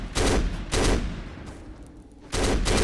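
G36C rifle fire in the shooter game Black: a few loud, boomy bursts spaced roughly half a second apart, then a lull before another heavy blast, with reverberant tails between them.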